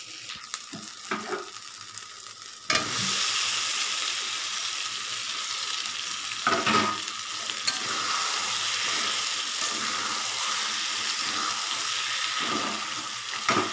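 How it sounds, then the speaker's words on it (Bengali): Fried soya chunks and potatoes hit hot oil in a pan and set off a loud, steady sizzle that holds for several seconds, with occasional stirring scrapes on top and no talking. "তো এবার আমি ভেজে রাখা সবিন আর আলুটা দিয়ে দেবো"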